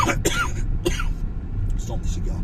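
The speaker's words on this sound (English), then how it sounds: "I got a cough." A man coughs several times in quick harsh bursts, close and fairly loud over steady outdoor background rumble, with a brief pause before a last softer cough.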